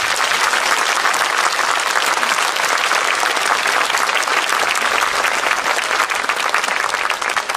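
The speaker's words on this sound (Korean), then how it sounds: "5월의 광주 시민들에게 여러분 박수 한번 보내주시죠" A large audience claps continuously and loudly, dense sustained applause with no break for several seconds.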